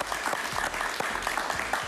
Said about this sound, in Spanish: Un aplauso para Pablo, un aplauso.